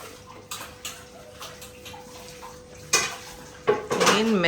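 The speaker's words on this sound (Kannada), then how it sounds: "ಇಲ್ಲಿ ಪಾತ್ರೆ ಇಷ್ಟೊಂದಿದೆ" Dishes and pots clink and clatter in a few scattered knocks against a low steady hum, with some brief voice sounds near the end.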